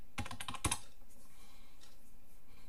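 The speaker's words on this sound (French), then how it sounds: "Alors, si je tape ici Etcher." A few quick clicks of keys being typed on a computer keyboard, close and fairly quiet, followed by near silence with faint room hiss.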